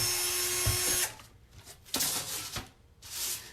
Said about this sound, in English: All right, let me drill these.